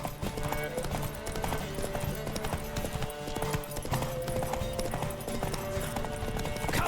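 Horse hooves galloping during a race in The Witcher 3, a fast continuous clip-clop rhythm under a busy game soundtrack, loud and close throughout.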